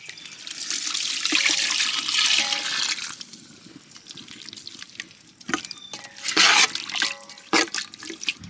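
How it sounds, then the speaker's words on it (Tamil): Water pours and splashes steadily into a cooking pot of country chicken gravy for a few seconds, then gives way to scattered drips and clinks, close by with no talking. "கொஞ்சமாக தண்ணி ஊற்றிக்கலாம்."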